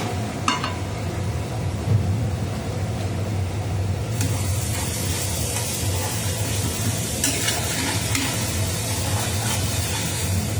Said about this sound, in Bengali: আমুলের আমি একটু ঘি দিয়ে দিচ্ছি